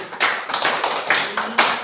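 A classroom of students gives a short round of hand clapping, several separate bursts of claps rising and fading, fairly close and not very large.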